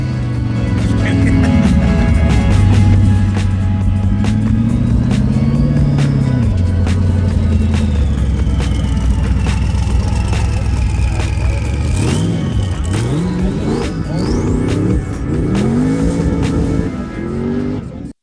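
Sand cars, including a 1500 horsepower sand truck, rev hard and climb up and down a sand hill, their engines loud and close with rising and falling pitch sweeps and tire squeal near the end. A voice is heard faintly.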